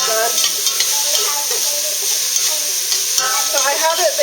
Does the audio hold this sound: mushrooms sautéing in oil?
yes